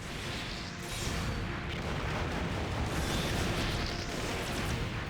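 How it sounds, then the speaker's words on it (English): Dense, continuous explosive booms and crackling blasts in the video game Gundam Breaker 3 pile up into a loud, busy barrage without pause. "Lots of explosions."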